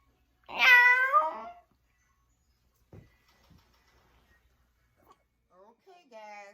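A person imitates a cat with a long, drawn-out meow that rises and falls, followed by faint clatter and a shorter mew-like call in a home kitchen while preparing Halloween snacks.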